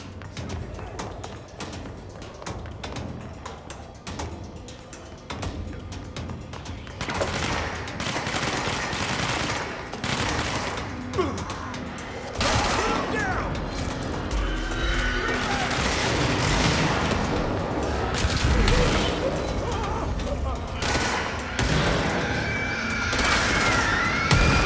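Automatic gunfire and heavy blasts in the video game Control start as sparse distant shots, then build into sustained loud firefights with booms and rattling bursts. A few voices are heard now and then.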